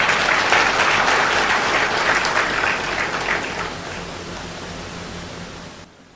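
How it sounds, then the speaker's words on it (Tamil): Loud, sustained applause from a large audience honouring the organising officials at a public speech event, a dense wash of clapping that gradually fades over several seconds with no talk. "அத்தனை அலுவலர்களுக்கும் ஒரு பாராட்டு கொடுங்கள்"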